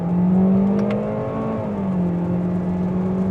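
A 2025 Toyota Corolla XSE Hatchback accelerating on the gas, the engine note a steady, loud hum that climbs slightly then settles as it pulls, heard from inside the car.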